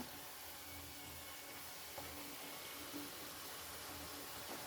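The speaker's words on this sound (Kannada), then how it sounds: "ಸೊ ನಿಧಾನಕ್ಕೆ ಮೀಡಿಯಂ ಫ್ಲೇಮಲ್ಲೇ ಒಂದು ಸ್ವಲ್ಪ ಇದೇ ಥರ ಕ್ಲೀನಾಗಿ ಫ್ರೈ ಮಾಡ್ಕೋಬೇಕು ಡೀಪ್ ಫ್ರೈ" Masala poori deep frying in oil over a medium flame, giving a faint, steady hiss and crackle of bubbling oil with occasional soft pops, close and continuous with no talk.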